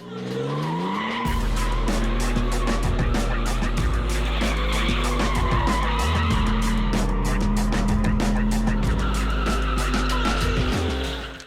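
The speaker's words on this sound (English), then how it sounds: "Once you catch that drift, you'll have no trouble sustaining it." A car drifts with sustained tire squeal and skidding over a steady engine drone, loud and continuous for several seconds.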